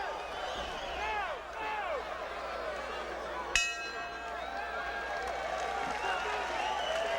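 A boxing arena crowd in Houston roars and cheers steadily throughout a fight, with a sharp clang near the middle and the commentator's voice running over the noise.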